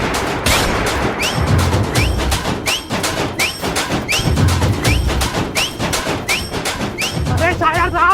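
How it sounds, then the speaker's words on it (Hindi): Gunfire sound effects in a Hindi comedy skit, rapid repeated sharp shots in a steady volley, loud and close, with voices underneath. "वो गोलियां चला रही है"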